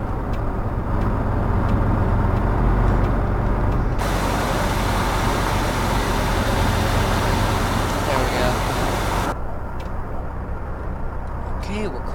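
Coach bus cruising in Fernbus Simulator, a broad steady road rumble and engine hum that swells louder in the middle stretch before settling back, with no talk over it.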